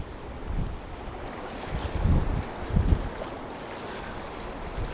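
High sea waves at the end of a fjord in a city harbour after a storm wash and surge at a distance, low rumbling swells under steady wind noise, with a few stronger pulses.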